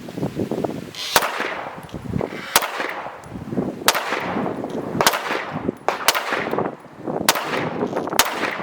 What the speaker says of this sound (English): I'll put up some footage of me shooting the gun from about 15 yards so you can get a sense of the group.